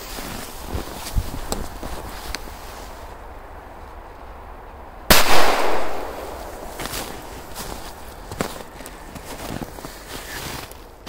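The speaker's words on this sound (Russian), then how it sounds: "Дальше вот такая черненькая петарда." A single sharp bang from a small black firecracker goes off outdoors in snow with a brief rumbling tail, surrounded by scattered clicks and crunching steps.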